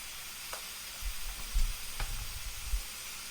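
Onion burger patties sizzle on a griddle in a steady, moderately loud hiss with occasional soft pops and scraping thumps, and no voices.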